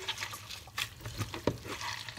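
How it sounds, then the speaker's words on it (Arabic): Washed endive greens are squeezed by hand over a sink to wring out the water, giving close, wet squelching and dripping sounds in uneven bursts. "بفضل أعصر فيهن بهالطريقة لأتخلص من كل المي"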